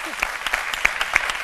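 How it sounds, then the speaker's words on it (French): A studio audience on a midday chronicle show claps briskly in a short, loud burst, with distinct individual claps standing out over the steady applause. "on applaudit très fort pour Nadiani"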